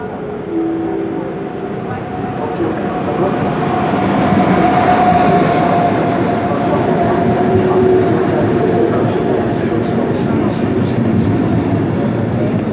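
A passenger train pulls into Warszawa Zachodnia station in Warsaw, a loud steady rumble with wheel clatter building toward the middle, over platform ambience and a faint announcement tone, with rhythmic clicks near the end.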